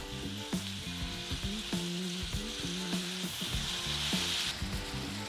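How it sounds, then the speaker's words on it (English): Potatoes browning in a pan with onions added on top, a constant sizzle broken by several sharp clinks and scrapes of a utensil, with a tonal hum beneath. "now while that browns, I'm gonna just add the onions on top to kind of start to wilt."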